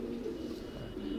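Racer pigeons in a loft's female chamber coo in a low, steady murmur, fairly faint and without speech.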